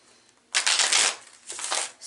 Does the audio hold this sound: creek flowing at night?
no